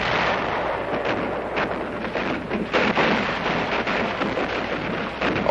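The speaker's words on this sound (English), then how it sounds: "the communists are unable to mass their troops for the attack because of the airstrikes and heavy bombardment" Heavy artillery bombardment around Khe Sanh in the Vietnam War, a sustained rumbling barrage with repeated muffled blasts and wind-like roar, a few sharper thumps standing out midway, steady and fairly loud.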